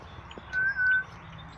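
Red-winged blackbirds call outdoors near tall grass, with one clear, sustained mid-pitched call in the middle of the clip and a few faint chirps around it, moderately distant.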